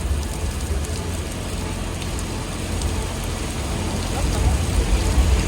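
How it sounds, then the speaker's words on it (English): Steady, dense hiss of rain falling close by at Universal Studios Hollywood, unbroken and growing slightly louder toward the end. "we get some rain."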